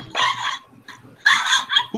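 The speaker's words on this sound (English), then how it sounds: "Who got the Chihuahua?" A Chihuahua gives two short bursts of high, yappy barking mixed with snarling growls, close and loud, with a brief lull between them.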